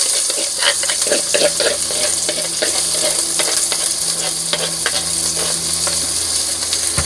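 Spices and shallots frying in vegetable oil or pork fat, a steady loud sizzle with repeated scraping stir strokes throughout, close and continuous with no voices.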